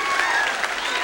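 A studio audience at a television game show applauds, giving a dense, steady wash of clapping that fills the whole short moment with no break.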